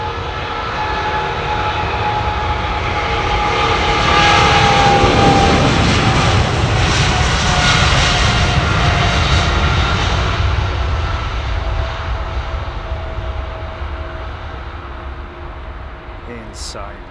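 GE jet engines on an airliner at London Heathrow roar loudly and steadily with a high-pitched screaming whine, swelling to a peak mid-way and then slowly fading as the aircraft passes, with people talking faintly underneath.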